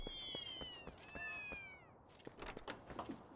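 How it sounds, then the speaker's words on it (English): Several cats meow in Zelda: Twilight Princess, drawn-out rising and falling mews overlapping in quick succession, with a few soft thumps and clicks beneath. "good God, there's so many cats."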